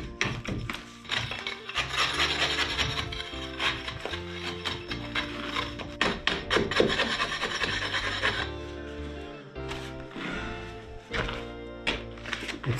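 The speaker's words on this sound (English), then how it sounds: "Mortar cleaning work." Old mortar scraped off chimney bricks during renovation of an old abandoned house, dense continuous rasping and grinding strokes with knocks, close and loud with no talking.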